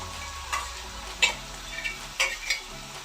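Butter chicken sautéing with spices in a pan for butter chicken pasta: a low sizzle under several sharp spatula scrapes and taps that come in irregular bursts.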